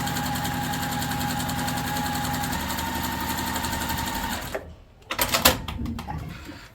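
A sewing machine runs steadily, stitching a quilt seam with a continuous mechanical whir, then stops. A few sharp handling clicks and knocks follow.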